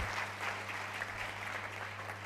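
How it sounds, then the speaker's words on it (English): An audience at a physiotherapy graduation and induction ceremony applauds a donor, a steady, moderately distant clapping throughout. "Please, let's clap for him."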